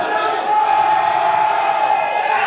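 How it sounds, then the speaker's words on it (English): A dense wrestling crowd roars and cheers continuously during a three-way independent match, a loud, sustained wall of voices and whoops filling the arena without letup. "Getting the crowd up."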